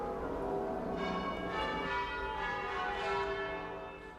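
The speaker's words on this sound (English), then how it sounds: "And the bells have been ringing a lot during the day, all over the city." Church bells ringing across a city in York on the day of Queen Elizabeth II's death, a dense, steady wash of overlapping peals heard at a distance with no talk.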